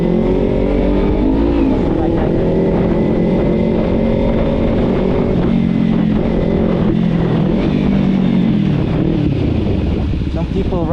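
A Kawasaki Z300 motorcycle engine revs loudly and close up, its droning pitch climbing and dropping repeatedly in smooth sweeps over steady rushing wind.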